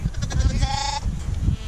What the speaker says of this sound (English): We have a few more sheep.